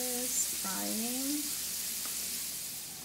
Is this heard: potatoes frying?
yes